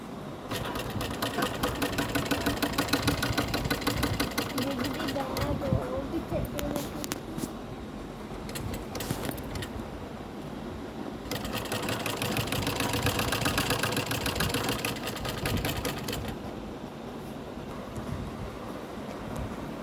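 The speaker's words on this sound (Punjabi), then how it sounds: "ਹੁਣ ਅਸੀਂ ਬਣੇ ਹੋਏ ਗਲੇ ਦੇ ਨਾਲ ਨਾਲ ਸੀਨ ਲਗਾ ਦਿੱਤੀ ਆ" A sewing machine stitching a seam along a garment neckline, its rapid mechanical whirr running in loud bursts with brief pauses, close by and partly under a voice speaking.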